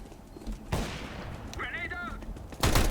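Gunfire from the video game CS:GO sounds in a few sharp bursts, one at the start and a louder one at the end, mixed with game effects and a short electronic tone in the middle.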